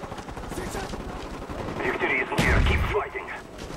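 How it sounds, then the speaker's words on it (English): Enemy mortar and gunfire in Call of Duty: Black Ops multiplayer, with rapid shots building into a heavy burst of blasts midway, then fading, loud and close with faint voice chat underneath. "Enemy mortars, take cover."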